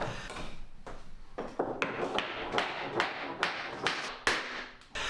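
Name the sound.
tapping engineered oak floorboard into place with offcut tapper block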